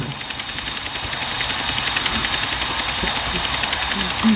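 A helicopter engine drones in GTA San Andreas, in an Android co-op virus mode set in Palomino Creek. The rotor and engine hum is steady and continuous, with a faint rhythmic flutter and no clear talk over it.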